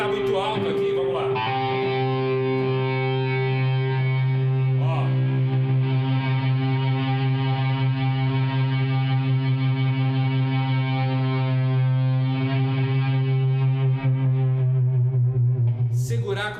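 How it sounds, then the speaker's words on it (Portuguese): An electric guitar's distorted feedback swells into a long sustained tone, held and gently bent with the whammy bar. It rings loud and steady for many seconds with slight wavering in pitch and a few soft pick noises. "Segurar quando aparece um feedback. A alavanca é muito legal para isso."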